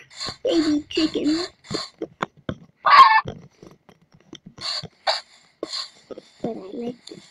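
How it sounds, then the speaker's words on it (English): A baby chicken in Minecraft gives short, high chirping peeps among game effects, with a person talking excitedly over and between them. "Oh no, baby chicken."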